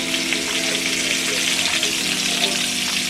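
Salisbury steak patties browning in a pan give off a loud, steady sizzle and crackle that runs the whole time with no break.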